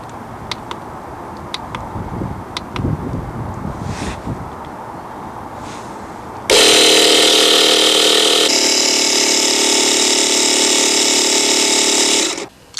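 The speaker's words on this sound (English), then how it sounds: "So now that the compressor is built up to 15 psi, we're now ready to drain our first tap." An air compressor running steadily to pressurise a motorhome's water system for winter drain-down, a loud continuous mechanical hum kicking in partway through after quiet background clatter and holding until it cuts off near the end.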